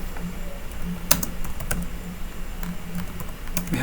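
JavaScript code is typed on a computer keyboard: a rapid, uneven run of close, crisp key clicks with a few louder strokes, and no one speaks.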